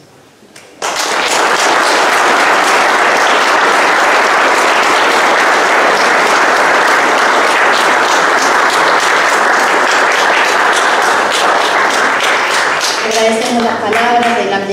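Loud sustained applause breaks out suddenly at a ceremony honoring workers at Castillo Morato, many hands clapping densely and close for over ten seconds before fading into scattered claps and a voice.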